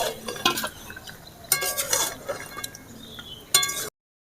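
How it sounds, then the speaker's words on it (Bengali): Fried potatoes go into a pot of mutton curry and are stirred. Faint, intermittent scraping and clinking of a spoon against the pot come in a few short bursts, with a soft sizzle underneath. "এবারে আমি ভেজে রাখা আলুগুলো দিয়ে দেবো।"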